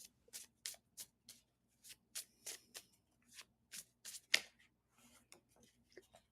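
Tarot cards being shuffled by hand, a run of quiet, crisp riffling bursts repeating at an irregular rhythm, close up, with a louder snap near the middle and softer rustles toward the end.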